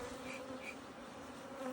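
Honey bees buzzing around hives at an apiary, a dense steady drone with nearby individual bees whining past, faint but constant throughout.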